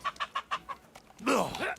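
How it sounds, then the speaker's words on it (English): Chickens in the video game Kingdom Come: Deliverance II cluck in a quick series of short, rhythmic calls, then burst into a louder, flustered squawk close by. "The chickens won't help you."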